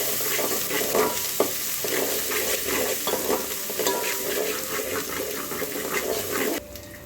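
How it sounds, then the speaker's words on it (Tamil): Ginger garlic paste sautéing with onions in a pan for a chicken kulambu, a continuous close sizzle broken by repeated scraping stirs before the cooking noise drops away near the end. "இஞ்சி புண்டு பேஸ்ட்டு சேர்த்துக்கலாம் சேர்த்து அதுவும் நல்லா பச்சை வாசனை போகிற அளவுக்கு வதக்கிக்கலாம்"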